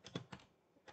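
A computer keyboard gives a handful of quick, soft keystrokes, close and quiet, in a short burst with a brief pause before the last press.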